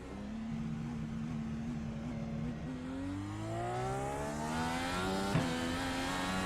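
A simulated IndyCar IR18 racing through Laguna Seca in iRacing accelerates hard, its engine note climbing steadily in pitch as it pulls up through the gears, loud and continuous with no voices.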